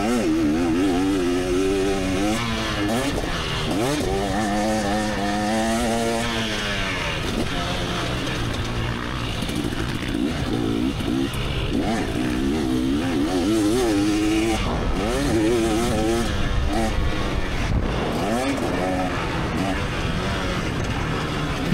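A 300cc two-stroke dirt bike revs hard at motocross practice, its engine note rising and falling through repeated throttle blips and pulls for the whole stretch, loud and close with a raspy, buzzing character.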